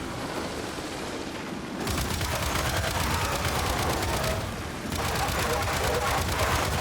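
Turret gun in the video game Gears 5 firing in sustained bursts, a dense rapid clatter of loud close gunfire with a brief pause before firing resumes.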